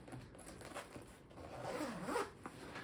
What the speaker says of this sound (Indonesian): Di depan itu ada resleting untuk taruh botol susu baby kita ya mam